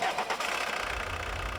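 A Volkswagen Golf's 1.9 litre turbo diesel engine turns over and settles into a steady idle, a continuous low rumble heard close and alone.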